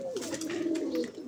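Pigeons in a loft give low, drawn-out cooing calls, a soft warbling coo close by over faint background rustle, with no voices.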